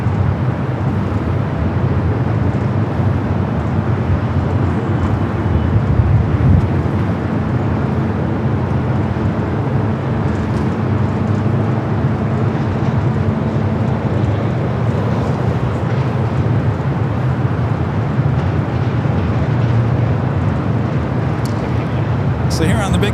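Jet airliners rumble steadily at LAX, including a United Dreamliner arrived from Newark and a Delta 767 from JFK, a continuous loud low roar of engines throughout, with a voice talking over it.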